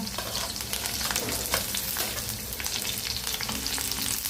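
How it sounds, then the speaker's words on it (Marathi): Chillies and curry leaves frying in hot oil with garlic for an okra dish, a dense steady sizzle and crackle with occasional stirring, close and loud with no talking. "आता मिरची घालायची आणि कढीपत्ता"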